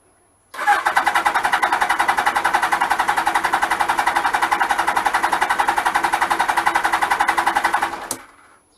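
A Suzuki GS1000 motorcycle engine cranks on its starter at full throttle during a compression test. A fast, even chugging beat runs for about eight seconds, loud and close, then cuts off abruptly.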